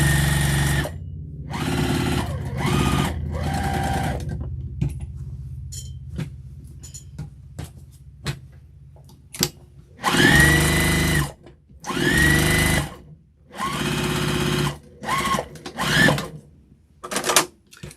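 A sewing machine stitches a flannel infinity scarf in loud, close bursts of rapid needle clatter, separated by pauses with faint handling of fabric.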